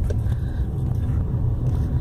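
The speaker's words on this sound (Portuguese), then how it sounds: "Ó, tô pegando mais uma descidinha agora. Ó, deixa o carro indo em embalo." A car coasts downhill in gear with fuel cut-off engaged, giving a steady low engine and road rumble from inside the cabin, fairly loud and unbroken, with no voices.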